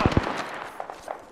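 Gunfire in the battle royale shooter Apex Legends: two sharp, loud shots in quick succession, followed by fainter, scattered pops.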